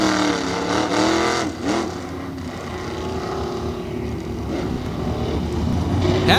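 A Tough Trucks race truck engine roars and revs loudly and steadily on a run at the Indianapolis track, swelling near the end with no talk over it.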